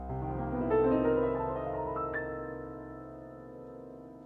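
A weird, ambiguous minor-key run played on an instrument: a flowing series of sustained, overlapping tones that swell to their loudest early on and then fade gently, with no voices.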